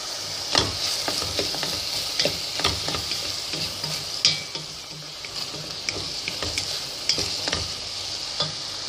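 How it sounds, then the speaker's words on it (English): Prawns stir-frying with vegetables and spaghetti in a pan, a close crackling sizzle punctuated by repeated scraping and tossing strokes at an irregular, brisk rhythm. "I'm going to add my stir-fry prawns to it."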